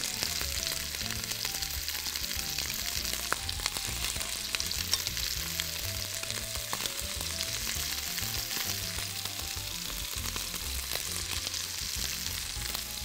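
A meat fillet fries over high heat in butter and oil, giving a dense, steady sizzle with small crackles and pops, close and continuous with no talking.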